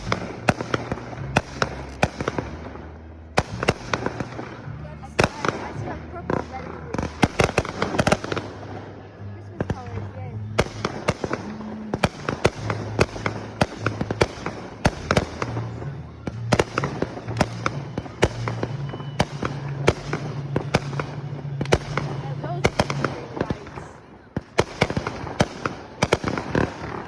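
Fireworks going off in a long barrage of sharp cracks and booms, dense and loud, with overlapping bursts and crackling continuing for nearly half a minute while people talk.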